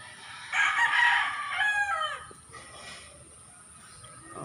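A young stag rooster crows once, a loud, close, drawn-out call lasting about two seconds with a falling tail, followed by quieter trailing fowl sounds.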